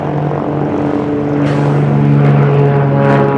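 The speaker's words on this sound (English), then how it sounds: "it doesn't look like that airplane's coming. Well, here it comes." Propeller airplane arriving at an airfield, a loud steady droning engine with strong tonal hum, growing slightly fuller as it approaches, with no talk.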